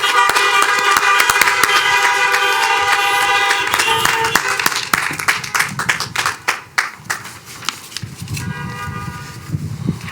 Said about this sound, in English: let's give them a round of honks and applause